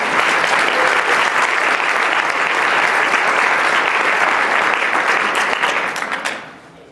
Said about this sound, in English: Can we give them one more round of applause for this?